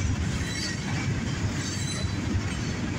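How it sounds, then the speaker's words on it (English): A northbound CSX mixed freight train rolls past at close range in Dayton, Ohio, making a steady, loud rumble of wheels on rail with faint squeal, continuous and without a horn. "Good looking mixed freight train."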